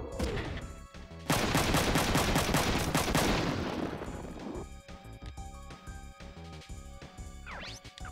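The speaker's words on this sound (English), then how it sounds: "Now the missile launcher decided to kick in." Explosive weapon fire from a missile launcher in a video game: a loud, dense burst of blasts and crashes that swells, then trails off into scattered smaller impacts and game sounds.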